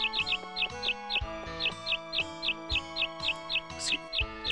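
Repeated bright chirps from a bird in the Harvest Moon 64 farming game, arriving in quick pairs and triplets at a steady rhythm over looping background music.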